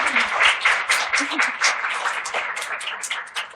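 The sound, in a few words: audience applause for the author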